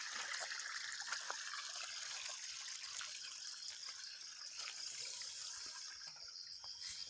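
Shallow water in a rice paddy at night trickles and dribbles softly and steadily, a faint continuous liquid hiss with small splashes scattered throughout.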